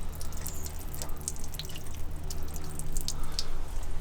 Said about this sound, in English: And that's the water draining out the boiler.